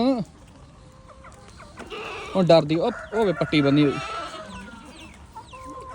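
A hen's stuttering clucks and squawks come in short bursts mid-clip, close by, with people talking over and around them.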